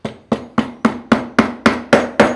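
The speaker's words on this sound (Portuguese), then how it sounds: "Agora eu vou bater o outro macete nele para que entre." A wooden mallet struck repeatedly with another wooden mallet to seat a glued joint: nine loud, close, evenly spaced knocks with a hollow woody ring, about three per second.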